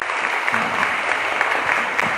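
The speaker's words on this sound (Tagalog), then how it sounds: "Isang masiglang palakpak dyan." Congregation at a live-streamed Holy Mass applauding, a brief, dense burst of steady clapping filling the church.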